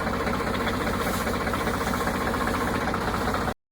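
A tractor engine idles close by, a steady, loud, rhythmic chugging with a knocking pulse and vibration that runs unchanged for a few seconds before cutting off.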